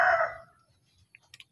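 A Minecraft chicken from the video game gives one loud, close clucking call that fades quickly, followed by a few faint, short clicks.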